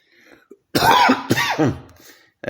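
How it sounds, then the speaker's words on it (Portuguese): A person coughs hard on a live podcast, giving two strong hoarse bursts with a faint throat sound before them, loud and close to the microphone, with nobody talking. "Se eu sobreviver a essa tosse"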